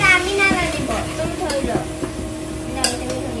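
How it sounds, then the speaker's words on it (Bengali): Marinated meat sizzles loudly as it is added to browned onions in a pan, with stirring scrapes and clinks of a utensil against the metal over a continuous frying hiss. "আমরা এখন এই যে মাখিয়ে রাখা মাংসটা দিয়ে দিচ্ছি আস্তে আস্তে করে পুরোটা দিয়ে দিচ্ছি।"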